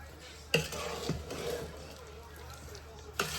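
Sugar being stirred into strawberries in a pot for homemade jam, with a few sharp utensil knocks against the pot over a low continuous kitchen background.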